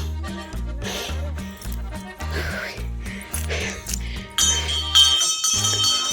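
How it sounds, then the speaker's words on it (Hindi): A temple bell rings out with a bright, lingering metallic tone partway through, over steady background music. "घंडियाल देवता की पहली घंटी आयुष के नाम की बज चुकी है"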